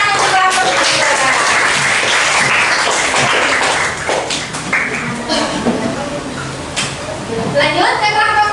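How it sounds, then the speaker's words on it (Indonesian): Applause from schoolchildren in a classroom for a group of pupils, a dense patter of claps filling the room throughout with children's voices chattering over it. "Tepuk tangan untuk kelompok 2."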